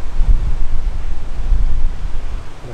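Strong wind buffets the microphone by the sea in heavy, uneven low rumbling gusts, with a faint wash like surf underneath.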